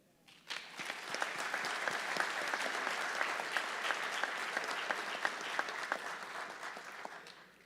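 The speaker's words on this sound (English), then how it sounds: "I'd like to take this time to give a much-deserved round of applause to all instructional staff" A crowd at a public safety academy graduation breaks into applause for the instructional staff, a sudden onset of steady, many-handed clapping heard from a distance that holds evenly before fading slightly at the close.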